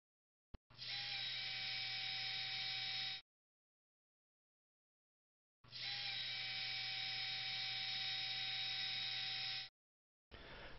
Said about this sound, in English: Adjacent pinholes are drilled with a zebra pin for insertion of the pin hooks.